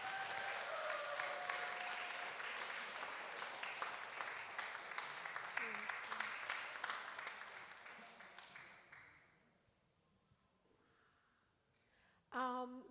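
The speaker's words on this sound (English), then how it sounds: "Can we have a warm round of applause" A live audience at a world music concert applauds warmly, sustained clapping that fades out after about nine seconds, followed by near quiet and then a brief burst of a voice and other sound at the end.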